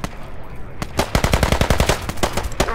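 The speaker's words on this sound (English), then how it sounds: "They're firing at us." Automatic gunfire in the military shooter Squad rattles off in rapid, evenly spaced bursts, loud and close, with a few single shots trailing at the end.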